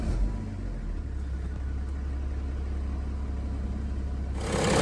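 A BMW E90 335d diesel engine running steadily right after an oil change, a close continuous low rumble with an even idle and a slight rise in level at the very end.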